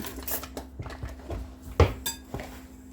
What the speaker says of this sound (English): we're just going to take a whisk and you're just going to whisk all these together